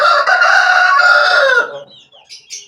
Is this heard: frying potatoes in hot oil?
no